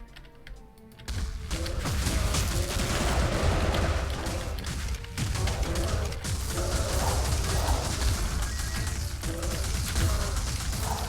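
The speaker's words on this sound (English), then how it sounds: "The little explosions from it being enhanced are actually kind of effective too." A dense barrage of crackling, booming spell explosions in the game Wizard of Legend, loud and continuous with sharp bursts throughout and no speech.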